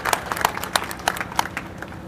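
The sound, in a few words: audience applause welcoming a new party member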